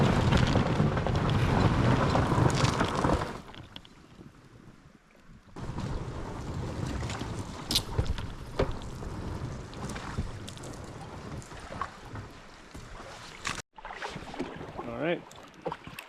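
A packed boat moves down a river in 14° cold, with heavy wind buffeting and rushing water at the start, then a steadier wash of water and creaks, and speech heard over it in places.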